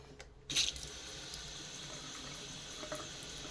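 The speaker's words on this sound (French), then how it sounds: "Là, vous laissez couler l'eau chaude." Hot water runs from a tap, starting abruptly with a soft splash and then flowing as a quiet, steady hiss of water, heard alone at low level.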